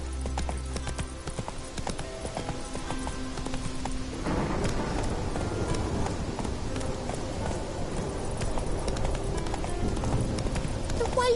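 Roach, the horse in The Witcher 3, gallops hard with loud, fast, driving hoofbeats that grow denser partway through, under a steady wash of game ambience.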